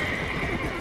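A horse in the video game Red Dead Redemption lets out one short, loud whinny, sharp and near, with light game ambience underneath and no talking.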